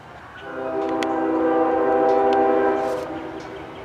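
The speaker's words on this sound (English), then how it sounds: "Here comes a CSX freight train here in Point of Rocks." CSX coal freight train at Point of Rocks, Maryland, sounding a long, steady chord horn that swells and fades over several seconds, fairly close, with faint rail clatter underneath.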